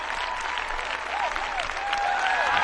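An arena crowd applauds an ice dance performance at the 2008 US Nationals, sustained clapping spread throughout with whistles and faint cheers rising toward the end.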